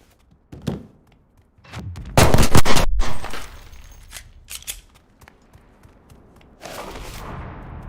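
Pistol gunfire in Cyberpunk 2077: a few sharp, close shots in irregular bursts, one loud cluster of rapid cracks mid-way, separated by quieter mechanical clicks and handling noises.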